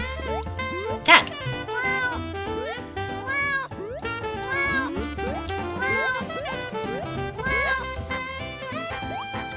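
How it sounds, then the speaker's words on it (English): A cartoon cat meows once, short and bright, in the Paper Mario-style fairytale game Escape from Ever After, rising briefly over continuous bouncy game music that plays throughout. "Cat!"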